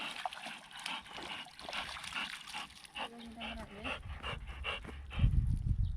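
A wet dog pants in quick, rhythmic breaths close by, with a person talking over it and some splashing or trickling water in the background.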